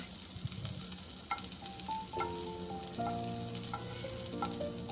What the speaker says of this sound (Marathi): त्यामध्ये मी एक टिक्की पहिला शॅलो फ्राय करून घेणार आहे